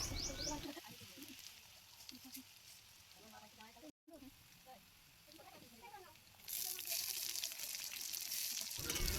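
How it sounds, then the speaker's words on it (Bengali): Chopped onion and garlic frying in oil left over from frying pangas fish: a quiet background sizzle with someone speaking over it, then the sizzle swells loud and bright near the end as the onions hit the oil. "মাছ ভাজার তেলে পেঁয়াজ কুচি দিয়ে দেব। পেঁয়াজ রসুন ফোড়ন দিয়ে দেব, লাল লাল করে ভেজে নেব।"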